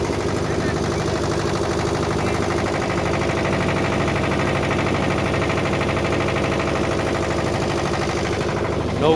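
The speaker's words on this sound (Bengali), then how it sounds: "নৌকায় ভটভটি।" A motorboat engine on the Ganges at Varanasi, near Harishchandra Ghat, drones steadily and loudly throughout, a constant close mechanical rumble with no breaks.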